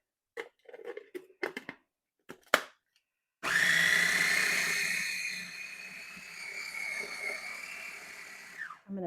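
Short taps and clatter, then a loud electric blender whirring steadily for several seconds as fresh lemon juice and olive oil are blended into a pesto sauce, winding down near the end.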